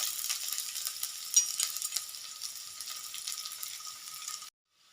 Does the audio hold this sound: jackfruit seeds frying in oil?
yes